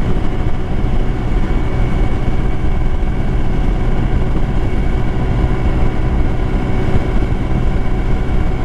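Icebear Hawkeye 150cc scooter engine running steadily while riding, a loud continuous buzzing drone with constant wind and road noise and no pauses.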